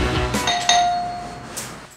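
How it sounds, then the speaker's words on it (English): A doorbell chimes close by, two bright ringing tones with a lingering hum, then a second ding near the end. "Doorbell again."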